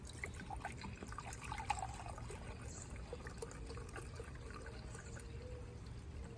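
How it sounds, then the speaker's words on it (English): Vinegar poured into a measuring cup while making sweet dill pickles, a faint, steady liquid trickle lasting several seconds with no talking. "I'm going to put the same amount of vinegar into the measuring cup."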